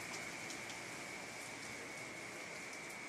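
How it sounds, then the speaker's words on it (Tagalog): Heavy rain pours down at night in a steady, dense hiss, with a faint constant high tone running beneath it and no voices. "Taas po ng ulan."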